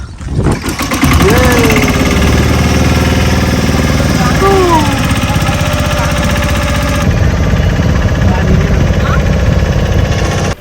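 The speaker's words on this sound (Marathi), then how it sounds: "तर बोट झालेली आहे सुरू. ही मोटर दिसते बोटमध्ये" A boat motor runs on Chilika Lake, a saltwater lake, with a loud, close, steady mechanical chugging throughout while people talk and call out over it.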